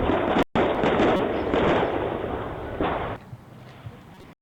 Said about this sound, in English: just listen to this explosion